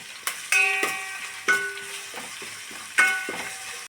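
Green chillies, curry leaves and ginger-garlic paste sizzle in a pan, with a steady frying hiss broken by a few sharp clinks and stirring knocks. No one talks.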